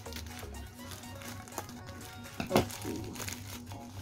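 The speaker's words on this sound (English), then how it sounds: "Use scissors. Open the package." A jewelry package is opened with scissors, with soft crinkling of packaging and a sharp crackle near the middle, close and fairly quiet, a low hum underneath and a brief spoken word.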